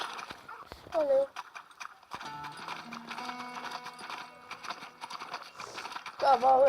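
Rhythmic hoof clip-clops of a galloping horse sound over audio from the game Six-Guns, with a whinny at the start and end.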